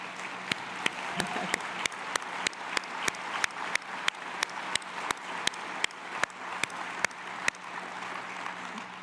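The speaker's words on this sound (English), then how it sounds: "we just can't applaud you all enough" Applause for veterans at a Veterans Day commemoration ceremony: an even bed of crowd clapping, rather faint and distant, with one set of sharp, regularly spaced claps standing out in a steady rhythm throughout.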